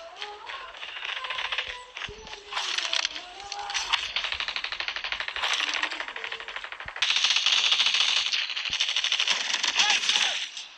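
Rapid bursts of video game gunfire crackle in dense rattling volleys, loud and continuous throughout, with brief pauses and a heavier stretch of sustained firing toward the end.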